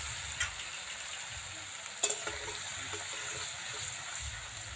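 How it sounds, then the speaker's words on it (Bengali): Shredded potatoes for crisp jhuri aloo bhaja deep frying in hot oil, giving a steady, fairly faint sizzle throughout with a brief sharper crackle midway and no talking. "তেলটা ভালোভাবে গরম করার পর অল্প অল্প আলু দিয়ে এভাবে কিন্তু ভাজা লাগবে।"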